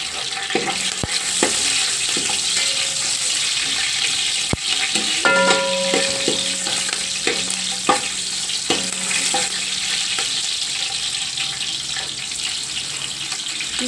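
Green chillies, large ones cut in half, frying in hot oil for spicy chicken dum biryani, with a steady loud sizzle throughout and occasional clinks and stirring scrapes of a utensil in the pan.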